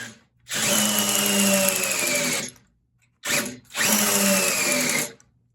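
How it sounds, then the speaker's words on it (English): A power drill with a dying battery whirs loudly for about two seconds, stops, then runs again in a second burst after a short pause. "Looks like my drill is about to die."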